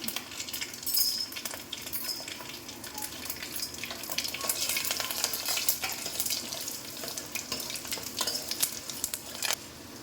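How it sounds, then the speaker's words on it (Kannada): Steady sizzling of chana dal, urad dal and cumin seeds frying in hot oil, with scattered crackles and pops throughout and no voices. "ಕಡಲೆಬೇಳೆ ಒಗ್ಗರಣೆ ಆಗಿದೆ."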